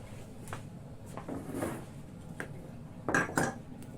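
Pots, pans and cutlery clatter while coffee is being made at home, with several sharp knocks and clinks spread irregularly over a few seconds at moderate volume, close by.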